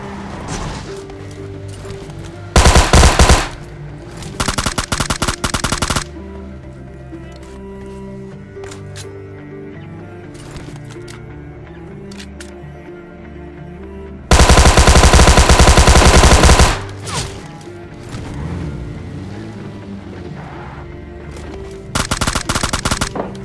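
Loud bursts of automatic gunfire from the mobile battle royale game PUBG Mobile Lite, coming in several separate volleys of a second or two each, with a longer heavy burst midway, over continuous quieter in-game ambience.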